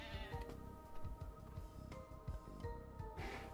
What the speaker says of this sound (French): Les moutons, on va essayer de les récupérer pour nous.